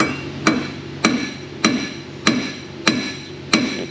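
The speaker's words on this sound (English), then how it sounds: "We're just gonna try to run them out with this mallet right here." Seven sharp metallic mallet strikes on a seized brake part of a 2000 Chevy Silverado land at an even pace, about one every half second, close and ringing briefly after each blow.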